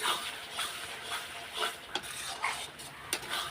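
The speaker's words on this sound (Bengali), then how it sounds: "এবার কষিয়ে নেব, কিছুক্ষণ কষিয়ে নিয়ে তারপর চিকেনগুলো দিয়ে দেবো" Spice masala with Kashmiri red chilli powder being stirred and sautéed in a pan before chicken goes in, a continuous hissing sizzle with rhythmic scraping and clanking of a spoon against the pan, close and moderately loud, no voices.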